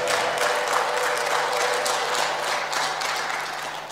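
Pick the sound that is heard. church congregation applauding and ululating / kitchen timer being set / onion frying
church congregation applauding and ululating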